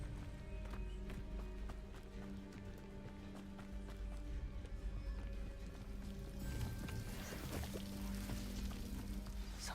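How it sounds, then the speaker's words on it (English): A waterfall in a video game setting gives a steady, even rush of water, fairly faint and continuous, with no talking over it. "The waterfall."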